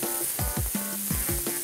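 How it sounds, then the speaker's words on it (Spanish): Oil sizzles and fries in a pan with tomato, onion and chorizo, a steady close hiss broken by repeated scraping stirs, with no speech over it. "ahora sí vamos a ponerle un poco de aceite para que se vaya friendo un poco"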